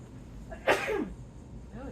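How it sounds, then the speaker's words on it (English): A single sharp sneeze from a person in a garage work area, close and loud and brief, followed by a faint murmur of voice. "Something out here is making me sneeze."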